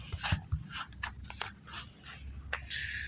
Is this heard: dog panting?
yes